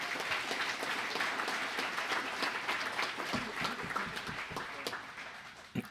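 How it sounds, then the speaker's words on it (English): Audience applause after the president of Muskegon Community College is introduced at a jazz orchestra concert, even sustained clapping in a hall that gradually thins toward the end. "Give him a big round of applause."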